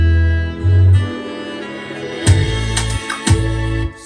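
Deep, loud bass notes enter a produced hip-hop beat, sustained and booming under bright percussive hits and a tonal melody, with no voices.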